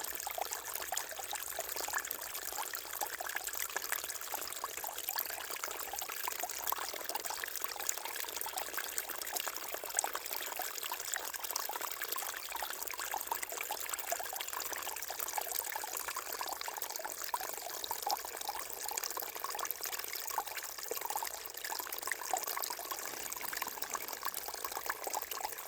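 Water trickles and pours steadily into a small outdoor garden pond on a cold day, a continuous close splashing wash that holds even and unbroken throughout, with no voices.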